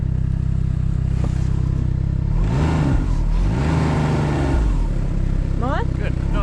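A snowmobile engine in the Yukon revs up under added throttle, with a rising and falling motor roar close by while people talk over it.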